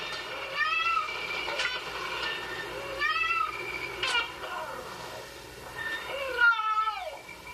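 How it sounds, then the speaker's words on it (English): Several domestic cat meows, each a rising then falling call, spaced irregularly through the stretch with the last one loudest, close and clear over a faint background hum. "The meow is a composite call made of 2 different components."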